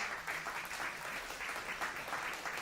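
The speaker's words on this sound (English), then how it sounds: "roar of appreciation from the crowd" A crowd applauds at an obstacle fitness race, with steady, dense clapping and cheering at mid distance throughout, no voice standing out above it.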